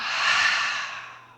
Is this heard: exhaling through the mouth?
yes